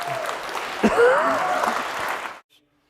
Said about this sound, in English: So let's give DJ one more round of applause